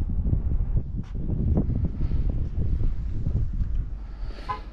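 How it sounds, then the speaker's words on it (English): Steady gusting wind buffets the microphone on a fishing pier at night, a low rumbling roar with no voices. "Windy, windy, windy, isn't it?"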